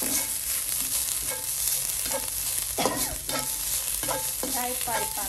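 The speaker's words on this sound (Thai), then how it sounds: "ผัดเนี่ยให้หอมนะคะ" Aromatics and curry paste sizzle in a little oil in a pan over medium heat for Thai pad kra pao, a steady frying crackle broken by repeated scrapes and clacks of the stirring utensil.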